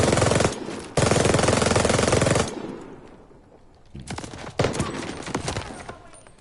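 Rapid automatic gunfire in a video game, fired with a recoil booster: two loud, dense bursts up close, a short lull, then scattered shots and clatter trailing off.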